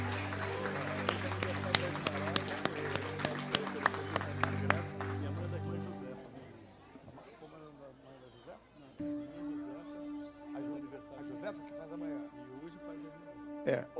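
A congregation claps loudly together during a church worship service, the applause mixed with music and singing for several seconds before a voice takes over and talks.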